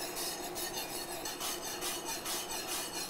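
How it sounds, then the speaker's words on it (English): Steady scraping and rasping of a whisk stirring cornstarch slurry into simmering apple pie filling in a pot, a continuous close rhythmic scrub with no talking. "So now that this is up to a simmer, I'm gonna add my cornstarch slurry,"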